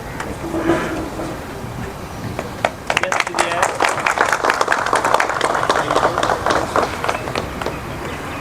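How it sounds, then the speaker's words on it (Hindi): Loud applause at a public event for an anti-dengue drive, starting after a moment of talk and murmur, then a dense, sustained burst of many people clapping that carries through to the end. "जोरदार तालियां"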